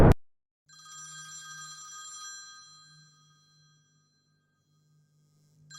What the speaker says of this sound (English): Only to be startled by the phone ringing at the very same moment.